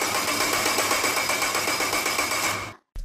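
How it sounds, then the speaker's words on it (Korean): A car engine cranks steadily with a rapid, buzzing rhythmic whir, loud and close, for about two and a half seconds before cutting off abruptly during an engine electrical inspection. "엔진을 크랭킹 시켜서 엔진의 작동 상태를 확인을 합니다."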